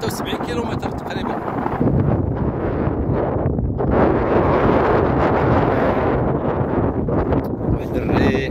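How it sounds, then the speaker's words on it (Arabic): Steady wind buffeting the microphone outdoors beside a dam reservoir, a continuous low roaring rumble that swells and eases slightly throughout. "واحد الريح راه"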